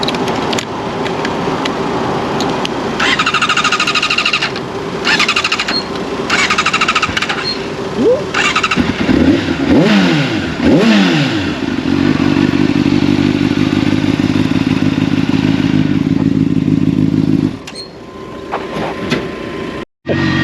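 Motorcycle engine running on a ride, a loud steady drone with clattering and a rising and falling pitch midway, then settling into an even hum before cutting off near the end.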